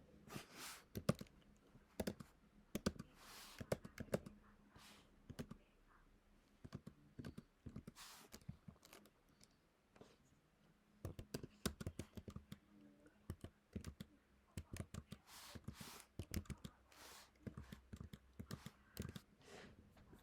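Rapid, irregular clicks of HP Prime calculator keys being pressed while entering statistics data, close and fairly quiet, in bursts with short pauses.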